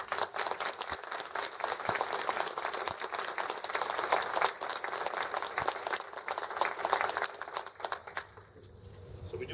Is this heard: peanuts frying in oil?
no